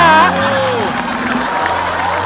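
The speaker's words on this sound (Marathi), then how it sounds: "टाळ्या." A studio audience on a Marathi comedy show breaks into applause and crowd noise, a broad wash of clapping and cheering that follows a brief voice and carries on steadily at moderate loudness.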